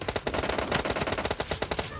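Rapid automatic gunfire in PUBG Mobile, a fast loud burst of evenly spaced shots running unbroken for about two seconds, with no voice over it.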